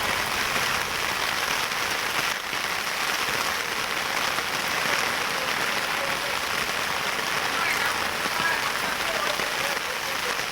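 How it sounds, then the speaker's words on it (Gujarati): Heavy monsoon rain pouring down in a village, a loud, steady, hissing roar of drops drumming on surfaces that stays constant throughout, close and unbroken. "તમારા ગામમાં કેવો વરસાદ છે કોમેન્ટ કરજો"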